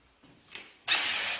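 A short whir and a pause, then a loud, steady grinding drone as a water-cooled electroplated diamond core bit bites into porcelain tile, sustained to the end.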